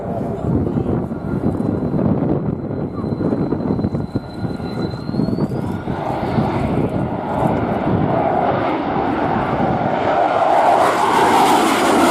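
Polish Air Force MiG-29 jet roaring past at the RIAT airshow, a loud continuous engine rumble with a rising whine that swells and grows harsher toward the end.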